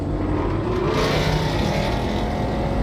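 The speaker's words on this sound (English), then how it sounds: "why your car that loud though?" A loud car engine roars and revs steadily at close range for a few seconds, with no voices over it.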